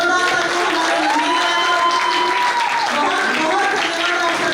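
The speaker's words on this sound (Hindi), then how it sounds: "एक बार और जोरदार तालियां" An audience claps and cheers loudly and steadily after a children's stage drama about Shivaji Maharaj's escape from Agra, with the applause filling the whole stretch and a voice calling out over it.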